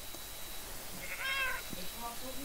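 A cat meows in the Minecraft video game, a short harmonic call in the middle of the clip heard over faint game background noise.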